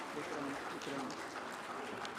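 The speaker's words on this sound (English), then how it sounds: "May we have a round of applause for our guests?" A conference audience applauds its guests, a quiet, continuous patter of many hands clapping at a distance with a voice faintly present beneath it.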